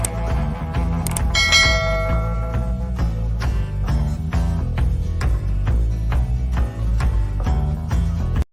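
A bell rings with a bright struck onset, then a steady rhythmic series of ringing strokes carries on over a dense, loud musical backdrop, with no talk.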